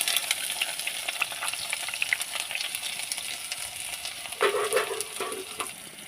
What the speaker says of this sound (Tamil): வெந்தயம் போட்டு அப்புறம் கொஞ்சம் கருவேப்பிலை, வெங்காயமும் பச்சை மிளகாய் வெட்டியதை போடணும்.